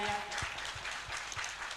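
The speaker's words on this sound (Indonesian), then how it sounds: "tepuk tangan yang meriah." An audience at an Islamic school quiz and graduation event claps in a dense, steady round of applause. The sound is moderately loud and continuous throughout.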